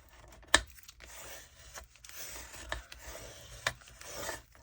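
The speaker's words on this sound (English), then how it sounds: "you're gonna need to burnish that again" Paper folded for an ephemera folio is burnished with a soft rubbing scrape in short strokes, a few sharper rasps among them. The sound is quiet and close, and no one talks.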